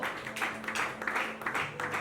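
A church congregation applauds a reverend prophet being introduced, a steady faint wash of clapping with a voice speaking over it.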